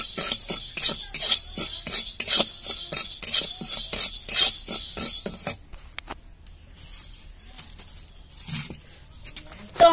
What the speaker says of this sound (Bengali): চলো এবার মেথিটাকে এরকম করে ভেজে নিই।